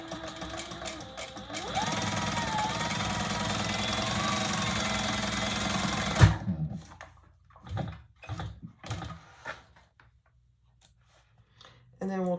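A sewing machine top stitches a bowler handbag in a steady, fast mechanical whir for about four and a half seconds, then stops, leaving handling clunks and rustles.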